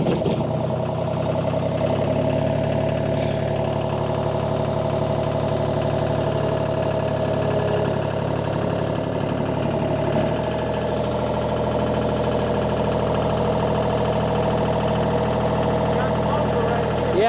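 A 1995 Ingersoll Rand vibratory roller runs with its vibrator engaged, giving a loud steady diesel drone with a heavy shaking hum whose pitch shifts slightly partway through.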